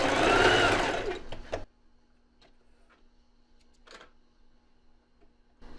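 A domestic sewing machine stitching underwear fabric runs in one loud, fast burst for about a second and a half, then stops, leaving near-silence with a few faint clicks.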